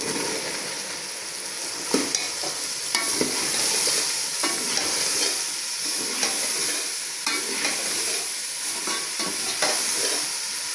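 Ridge gourd (tori) sabzi cooking in a pan on a low flame, with a steady sizzling hiss and a spoon stirring now and then, making light scraping clicks at irregular intervals throughout.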